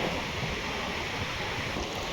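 Sea waves wash onto the shore at Diu during the monsoon, heard as a steady, broad roar of surf with wind noise on the microphone and no talking.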